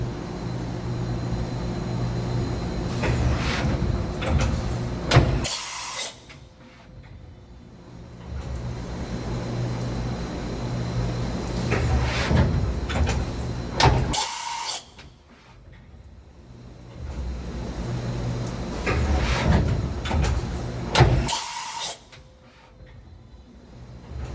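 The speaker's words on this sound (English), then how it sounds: "This is a tool change video from the back side." A 2013 Mazak HCN 4000 CNC horizontal machining center running tool changes: a loud mechanical whirring that drops off three times, each drop marked by a sharp clunk, then builds back up, in a repeating cycle.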